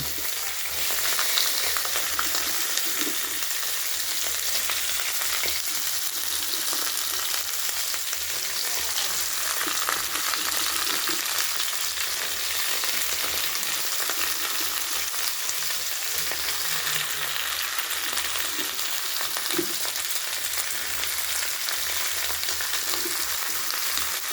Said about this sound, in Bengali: এই যে এবার তরকারিগুলো ধীরে ধীরে দিয়ে দেবো কড়াই